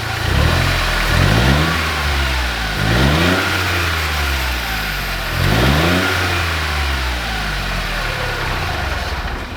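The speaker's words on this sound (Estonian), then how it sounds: "anname gaasi kohe" A Smart car's small warm engine repeatedly revved in a workshop, rising and falling in three or four smooth surges over a steady idle, close and loud with no talking.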